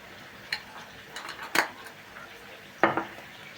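Spoon clinking against a bowl while instant yeast, two spoonfuls of sugar and warm water are stirred together, a few sharp metallic taps spaced irregularly, close and fairly quiet with no talking.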